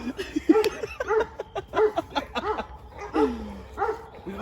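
A dog snarls and barks in short, agitated bursts, several rough yips and growls in uneven rhythm close by, with faint laughter mixed in.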